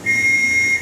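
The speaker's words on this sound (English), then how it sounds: "So we have things like a police whistle," A theater organ's police whistle effect gives one steady, shrill, piercing tone held for nearly a second, loud and close, with a breathy hiss underneath.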